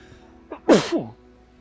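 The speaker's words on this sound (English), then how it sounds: "I feel another sneeze coming on" A single sharp human sneeze, close and loud, with a short intake of breath just before it and a brief voiced tail after.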